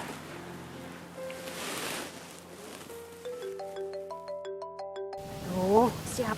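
A phone ringtone plays a rising melodic tone sequence with several repeated notes, then cuts off abruptly, set over a soft background wash.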